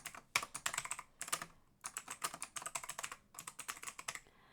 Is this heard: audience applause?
no